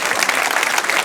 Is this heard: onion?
no